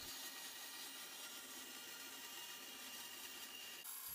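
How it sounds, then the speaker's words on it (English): A bandsaw cuts reinforcing triangles from 9mm plywood, giving a steady, loud, continuous hiss of the blade through the wood that shifts abruptly just before the end. "Here I'm using the bandsaw to cut 32 reinforcing triangles out of 9mm ply."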